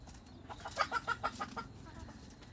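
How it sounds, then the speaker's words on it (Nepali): A frightened chicken gives a quick run of five or six sharp clucks, faint and close, in a rural yard setting. Low background noise sits under the calls. "कस्तो डराएर कुखुरा छ भने यार"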